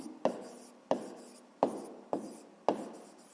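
Pen on paper during a fifth-grade math exercise: five short, crisp strokes spaced roughly evenly, each a sharp scratch fading quickly, close and quiet, with no talking.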